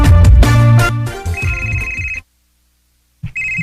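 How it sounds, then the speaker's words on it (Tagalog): A mobile phone ringtone plays loudly and close, a melodic electronic tune with a sustained tone, cutting off into silence for about a second before the ringing resumes. "Uy, ang cellphone ni Ryan na bilhin."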